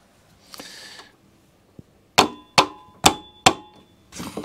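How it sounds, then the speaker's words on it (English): A hammer strikes a bolt on a vintage Ransomes Ajax reel cylinder mower during restoration: four sharp metallic clangs in quick, even succession, close and loud, after a faint scrape and a lone tick. "A bit of a tap of a hammer"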